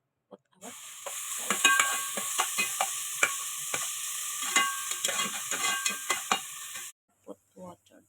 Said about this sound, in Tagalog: It's already hot, so we will put oil.